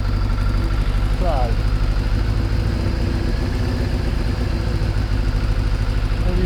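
A Kawasaki ZXR750 H1 motorcycle engine idles loud and close during carburettor balancing, a steady low rumble with fine shifts in tone and pulse, with someone talking over it.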